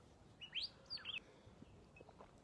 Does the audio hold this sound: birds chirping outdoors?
yes